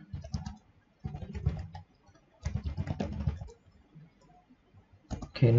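Typing on a computer keyboard while working in MATLAB, heard as close bursts of rapid key clicks separated by short pauses, ending with a louder clatter.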